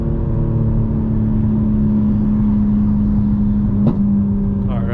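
A 900hp 2025 BMW M4 Competition xDrive drones loudly from inside the cabin, a steady engine hum with little change in pitch, a brief knock near the end as the pull begins to build.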